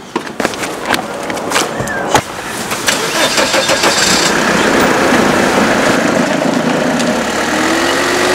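A car engine cranks and catches, then runs at a steady rumbling idle up close, preceded by a few sharp knocks and clatters.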